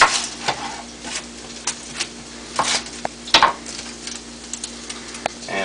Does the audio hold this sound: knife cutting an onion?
yes